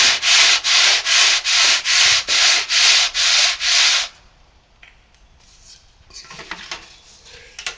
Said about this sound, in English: a couple kisses with the old sandpaper doesn't hurt